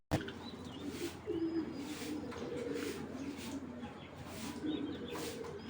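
Racing pigeons coo in low, throaty murmurs close by, a continuous rolling burble with a few brief chirps and some indistinct background voices.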